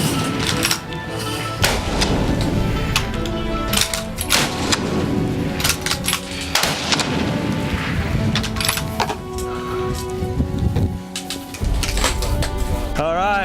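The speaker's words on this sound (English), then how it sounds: "All of these girls are shooting simultaneously." Several women fire guns at the same time at a shooting range, producing dense, overlapping sharp cracks in continuous rapid succession with no pauses, loud and close.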